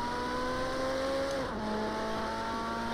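Ferrari 458 Special in Project Cars 2 holds a loud, steady high-revving engine drone, with a brief pitch dip around a gear change before the note climbs again.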